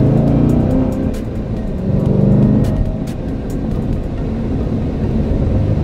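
A Corvette engine runs at a steady idle, a dense low rumble that holds close and fairly loud without a break. A slight swell in the middle suggests a mild rise in revs, with no voices over it.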